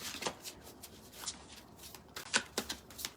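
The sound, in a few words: shuffling tarot cards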